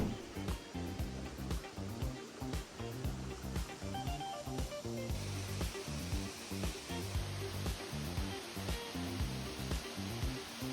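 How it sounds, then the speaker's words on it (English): Popokvil waterfall in Kampot, Cambodia gives off a steady, faint broadband rush of falling water, constant and unbroken throughout. "last but not least is the waterfall."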